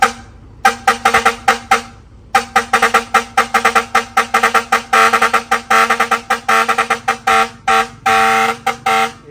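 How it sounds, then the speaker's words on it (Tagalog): A fire air horn newly added to a vehicle blasts in rapid repeated bursts, loud and close, with a short pause early on before the honking resumes in a steady pulsing pattern and ends in longer held blasts. "Kuya Marjo, papitig nga nung fire air horn natin."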